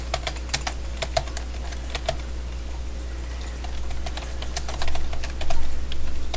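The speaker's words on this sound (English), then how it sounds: "you would just type in a command like" A command typed on a computer keyboard, rapid irregular key clicks close by, quickening into a denser burst near the end over a steady low hum.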